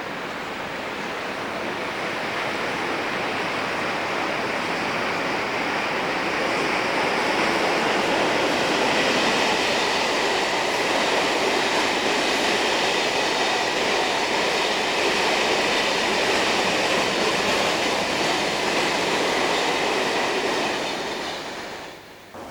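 Pair of Class 33 diesel locomotives hauling a rake of empty sand wagons, a steady broad rumble and rolling wagon noise sustained throughout, swelling slightly mid-pass and easing off at the end.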